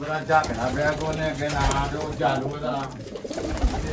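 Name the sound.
pigeons cooing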